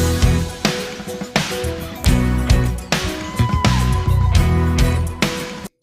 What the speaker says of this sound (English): So I just duplicated the snare top completely, and then I added a compressor to it